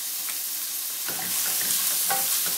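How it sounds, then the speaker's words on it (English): Onions fry in hot oil over high heat, a dense steady sizzle with spattering crackles and a few soft stirring scrapes, close and alone. "I start to hear the onions spattering in there"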